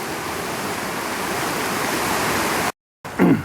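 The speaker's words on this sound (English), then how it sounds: "My whole yard is flooded. Look. There's the water coming through." Floodwater rushes through a yard after a hail storm, a loud, steady, close roar of flowing water that cuts out briefly near the end and then returns.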